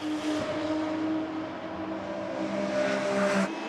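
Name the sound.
Porsche 911 GT3 Cup race car driving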